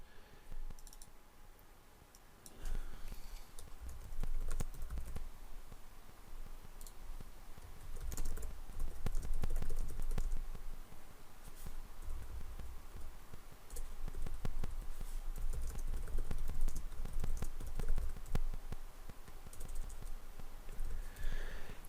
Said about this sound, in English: It's me being a horrible typist on my tiny little laptop keyboard.